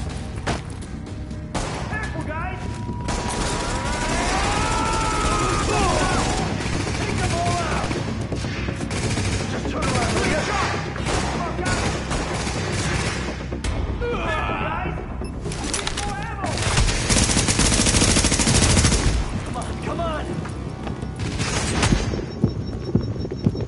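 Gunfire in the video game The Division: sustained automatic bursts and rapid fusillades rattle nearly nonstop and loud, with booming impacts and a voice speaking over the shooting.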